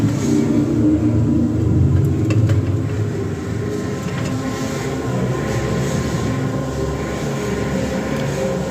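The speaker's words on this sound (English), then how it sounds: "that was the ghost train" A continuous rolling rumble of a ghost train ride car on rails at Brighton Palace Pier, with clattering and occasional sharp clicks, steady and fairly loud throughout.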